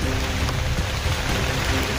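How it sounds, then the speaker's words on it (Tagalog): Heavy rain pours steadily, a dense, continuous hiss of drops drumming on surfaces close by, with no pauses, during a strong storm. "Lakas ng ulan kasi nababasa yung cellphone ko."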